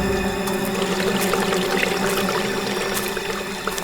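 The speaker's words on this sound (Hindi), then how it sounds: "ये पानी की आवाज आ रही है" Water pouring and trickling steadily near a pond, a continuous close splashing flow at moderate volume with no voices.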